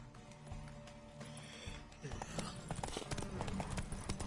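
Rhythmic hoof clip-clops from a horse in The Witcher 3 video game, growing busier and louder partway through, layered over steady background music and ambient noise.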